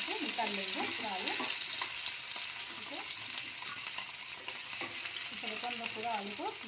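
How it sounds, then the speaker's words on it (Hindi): Potatoes for dum aloo frying in hot oil, a continuous crackling sizzle with intermittent scraping and stirring, close up and fairly soft, a voice talking faintly at times. "थोड़ा सा लाइट कलर आने तक फ्राई कर लेंगे इसको"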